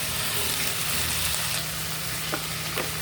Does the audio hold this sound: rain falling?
no